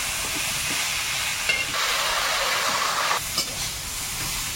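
Loud, steady sizzle and hiss as water goes into a hot pan of fried taro, shrimp and green chilli, with brief stirring scrapes and no speech.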